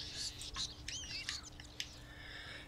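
Birds in Castlevania chirp and tweet in quick, bright bursts, several calls overlapping at moderate volume over a low steady background hum.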